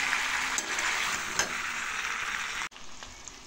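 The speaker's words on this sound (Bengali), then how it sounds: "আরও বেশ কিছুক্ষণ ভাজা ভাজা করে নেব" Taro and potatoes frying with spices in a pan, a dense continuous sizzle with occasional stirring scrapes, close and steady, then a brief cut and the frying resumes.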